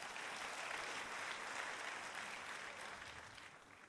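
Congregation applauding God during an Indonesian church sermon, a broad sustained roar of many clapping hands, fairly distant and soft, holding steady before gradually tapering off.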